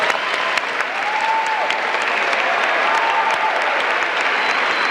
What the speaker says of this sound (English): as this applause continues here for Alberto